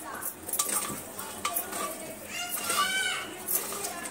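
Washed potatoes go into a pan of well-fried masala with softened tomatoes and get stirred, bringing light sizzling and scraping with clinks of a spoon against the pan, close and moderately loud, with faint background sounds.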